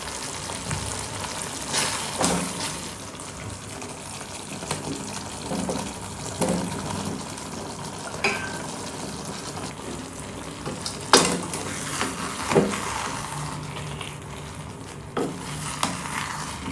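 Soaked soya chunks for a pepper fry being stirred in a hot pan, a soft continuous sizzle broken by scattered scraping knocks of a spoon against the pan, close and moderate in level.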